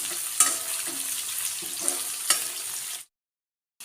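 Ginger and garlic frying in hot oil in a wok, added after browned onions for pulao: a steady, bright sizzle broken by a few scraping stirs, loud and close, cutting off abruptly near the end.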